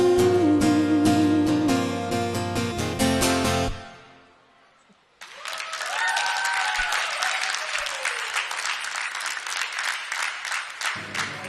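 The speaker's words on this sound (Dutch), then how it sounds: "een groot applaus, dat heeft hij wel verdiend" Music with a sung melody ends and, after a short quiet gap, an audience at a live Dutch regional event breaks into loud, sustained applause that continues for several seconds.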